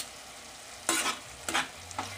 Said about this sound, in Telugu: కొత్తిమీర వేసుకుని ఒకసారి కలిపేసుకుందాం